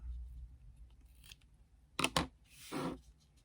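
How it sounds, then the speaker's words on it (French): Scissors trim excess ribbon from a handmade Christmas tag with two quick, close, crisp snips in a quiet room. "on coupe ce qui dépasse en trop"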